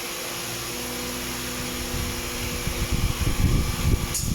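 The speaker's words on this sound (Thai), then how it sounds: "เดี๋ยวเราจะลองเร่งเครื่องค่ะ" A Honda City engine with 376,613 km gives a steady mechanical drone that builds into a louder, rumbling rev in the second half, with no talking.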